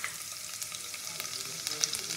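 Chopped garlic frying in a small amount of oil for chicken Manchurian, a steady close hiss of sizzling oil with faint crackles and light stirring, no talking.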